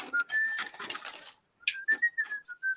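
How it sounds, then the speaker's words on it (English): Someone whistles a short melodic tune, breaking off briefly midway, with background noise early on before the whistling continues alone. "I was whistling the Pablo theme song, actually"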